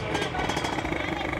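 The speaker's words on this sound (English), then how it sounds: "There's a couple of the two-stroke bikes." A two-stroke motorcycle engine at a speedway bike show runs with a rapid, buzzy pulsing drone, close and steady, while a person talks over it.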